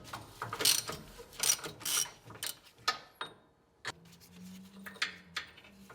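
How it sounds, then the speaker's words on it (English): A socket ratchet clicks in quick bursts while loosening the coil spring nut on a 1980-1996 Ford Bronco, close and crisp, with short pauses between strokes. "Once it's loose, just use a ratchet and take it out."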